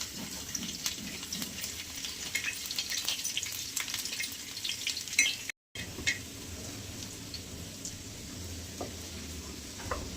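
Garlic and cumin seeds frying in hot oil, a faint continuous hiss and crackle that briefly cuts out midway, then resumes steadily.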